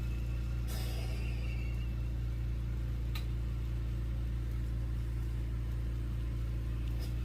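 An electric mandrel spinner motor hums steadily while turning a big-hole glass bead, its low drone continuous and even throughout, with a couple of faint brief clicks over it.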